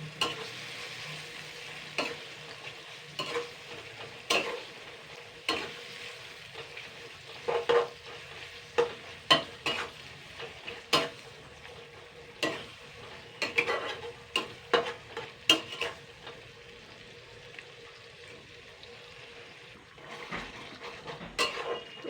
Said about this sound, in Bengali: এবার আমি সুন্দর করে এটাকে ফ্রাই করে নেব।